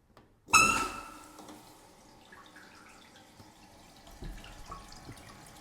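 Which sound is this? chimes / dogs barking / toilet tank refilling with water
toilet tank refilling with water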